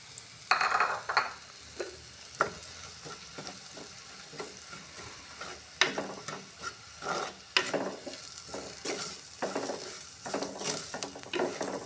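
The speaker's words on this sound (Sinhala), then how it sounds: "දැන් හොඳින් ටෙම්පරාදු වෙලා තියෙන්නේ." Spices tempering in hot oil for a Sri Lankan mushroom curry, a steady close sizzle and fry broken by repeated scraping stirs of a spoon against the pan, with no talking.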